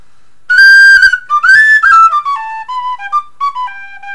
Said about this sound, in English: This is a thin aluminum one called the Little Black Whistle.